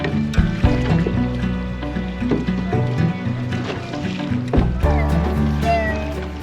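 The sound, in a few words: open canoe paddling through waves on tidal estuary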